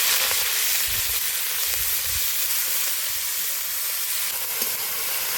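Gima greens and vegetables are tossed into hot oil seasoned with fennel and nigella seeds, producing a loud, continuous frying sizzle that holds steady throughout with only slight shifts.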